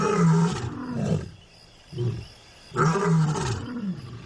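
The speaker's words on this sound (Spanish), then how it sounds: "Con su rugido, el león proclama que el territorio le pertenece." A lion roars in two long, loud, close bouts separated by a short low grunt, each call rich and rumbling with deep guttural pulses, set against quiet surroundings.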